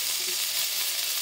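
Bacon and ground beef fry in a hot pan for tacos, giving a soft, steady sizzle and crackle at low volume with no talking.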